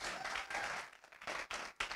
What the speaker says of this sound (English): why don't you guys give a big round of applause for Matt Karlak as he comes up here